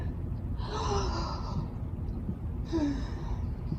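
Two long, breathy exhalations with a slight rising squeak, like drawn-out yawns, heard over a steady background hiss.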